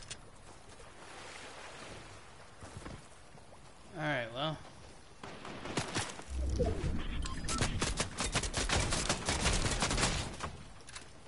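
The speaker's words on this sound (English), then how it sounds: "Those gunshots in that direction." Scattered gunshots crack in the distance, several bursts of irregular popping mixed with a voice and outdoor background noise.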